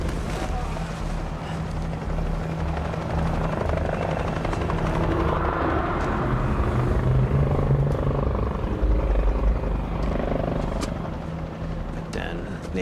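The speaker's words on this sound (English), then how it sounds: "I heard some helicopters. They were quite distant at first." Helicopters approach over the Australian outback, a distant rotor drone that grows gradually louder and nearer over several seconds, with faint background noise and no clear talk.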